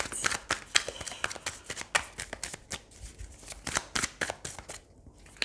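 Oracle cards are shuffled by hand in quick, crisp riffling bursts, close and fairly loud, with a brief pause near the end.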